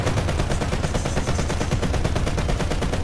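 Sustained rapid-fire gunfire in War Thunder, a loud, dense, steady stream of shots throughout with no talking.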